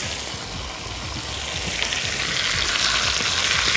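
Chicken and mixed vegetables frying together in a pan, a dense hissing sizzle that swells louder partway through, with light stirring scrapes beneath and a brief spoken word.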